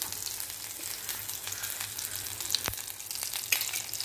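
Mustard seeds, urad dal, green chillies and asafoetida frying in hot oil for mango rice, a steady close crackle with sharp pops and spits scattered throughout.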